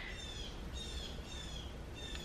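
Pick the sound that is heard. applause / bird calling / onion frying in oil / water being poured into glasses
bird calling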